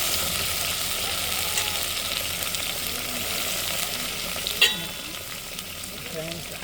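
Parwal (pointed gourd) fries with green chilies in oil over a rustic country clay stove. A steady, close sizzle runs throughout, with a single clink of stirring partway through.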